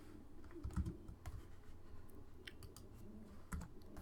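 Quiet, close-up typing of code on a computer keyboard comes in irregular bursts of soft key clicks separated by brief pauses, with no one speaking.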